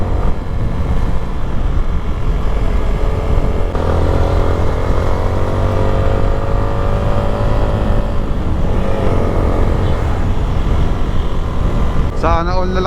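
A Yamaha Sniper 155 motorcycle engine drones loudly and steadily while riding, its pitch rising and easing with the throttle, mixed with wind noise and a few brief higher tones near the end.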